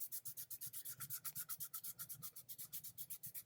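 Steady rhythmic rubbing of sandpaper by hand on resin, quick back-and-forth strokes repeating evenly with a gritty hiss, quiet and close.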